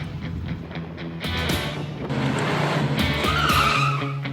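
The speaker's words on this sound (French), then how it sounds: "La voiture de Brian perd de l'adhérence et part dans tous les sens" A car loses grip on spilled oil on a narrow course, tyres skidding and squealing loudly under a revving engine, the screech rising and sliding through a bend with no voices.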